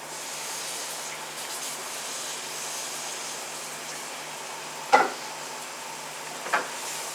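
Steady soft sizzling and hiss of flour frying in butter in a pan, with a couple of brief clinks or scrapes near the end.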